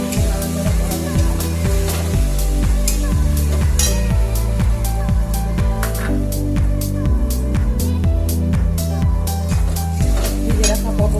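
Ground mustard and chili paste stirred in a frying pan, a spatula scraping and clinking against the metal in quick repeated strokes over a low sizzle, with a voice and some music in the background.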